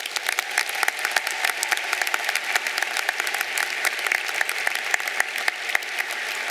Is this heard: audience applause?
yes